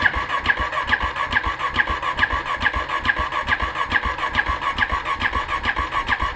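Dual sport motorcycle cold start attempt, with the engine churning in fast rhythmic pulses throughout, loud and close, without catching.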